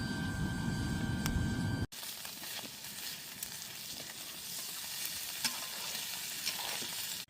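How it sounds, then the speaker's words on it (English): A blower roars steadily on a campfire at a high country hut, a continuous airy rushing hiss with a louder low rumble at the start, then a cut and a steadier whoosh with faint crackles. "Having to use a blower for a bloody fire."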